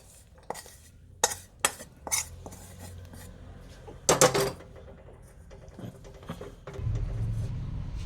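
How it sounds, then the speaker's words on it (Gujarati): Food being scraped and spooned out of a thick-bottomed kadhai into another vessel while cooking a Gujarati winter sweet: scattered metallic clinks and scrapes, a louder cluster of knocks midway, and a low rumbling scrape near the end, close and fairly quiet. "હવે એક વાસણમાં કાઢી લઈએ આપણે"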